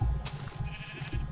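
A sheep in the Minecraft video game bleats in a short, wavering, fairly close cry that stands alone with no talk over it.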